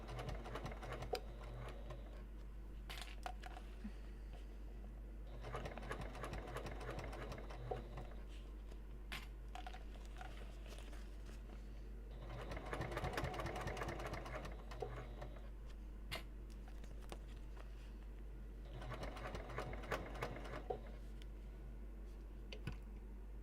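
Inside a bus on the road, a sewing machine stitches car trash cans in four separate bursts of quick, rattling stitches over a constant low hum, with quiet gaps between the runs.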